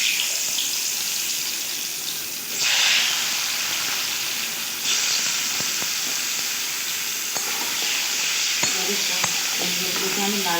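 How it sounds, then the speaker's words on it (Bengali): Diced pumpkin pieces fry in hot oil with a steady, fairly loud sizzle that swells as they go into the pan, with scattered clicks and scraping of stirring throughout. "কুমড়োগুলোকে আমি লাল লাল করে ভেজে নিই"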